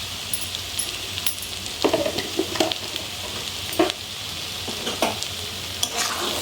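Ghee is stirred into cooked papaya ghonto in a pan, giving a low sizzle beneath irregular scraping and clinking spatula strokes spread through the mix.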